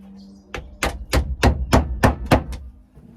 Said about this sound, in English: Here's a nail. Whoa. Let's get a hammer this time.